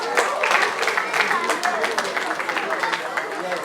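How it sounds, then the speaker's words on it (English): An audience at a maths festival claps steadily for several seconds, with many hands blending into a lively wash of sound and a few voices underneath. "A round of applause for them."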